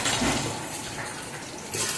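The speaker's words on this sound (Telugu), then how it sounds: "ఇక చింత పులుసు పోస్తా" Tamarind water is poured into a pot for cucumber sambar, a soft continuous watery pour lasting about two seconds, close by and fairly quiet, with no talking.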